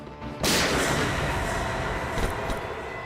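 A single loud gunshot blast cracks suddenly, followed by a long rumbling echo and a couple of softer knocks as it fades, in a scene from the TV drama CID.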